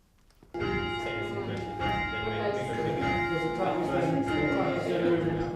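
Church bells rung by bell ringers peal continuously from just after the start, layered tones ringing steadily and loudly throughout, with faint voices underneath.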